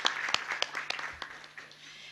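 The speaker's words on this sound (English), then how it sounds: "So if we could please have a big round of applause for that." Audience at a UNESCO Memory of the World regional meeting for Asia and the Pacific gives a short burst of applause, with separate claps audible, brief and fairly close.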